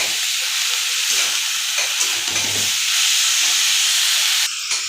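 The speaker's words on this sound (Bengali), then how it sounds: "আমি একটু মশলাগুলোও দিয়ে দিলাম এর সঙ্গে, একবারে কষিয়ে নেব।" Cabbage frying in a pan with spices, salt, turmeric and chili, giving a steady close broadband sizzle and hiss that holds level for about five seconds before a brief drop near the end.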